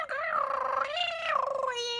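A voice imitates the screeching, warbling tones of a dial-up internet modem, a short wavering series of pitched squeals alone and close.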